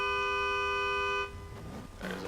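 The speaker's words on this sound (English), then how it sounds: "There's the horn." A loud, steady horn tone sounds for over a second and then cuts off, signalling the start of a drift qualifying run, followed by softer background noise and a brief honk-like tone.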